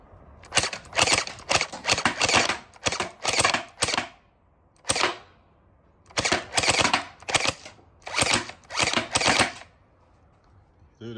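Gel Blaster Starfire XL toy blaster fired on full auto with one hand, loud rapid rattling bursts of varying length separated by brief pauses, close by over faint background noise.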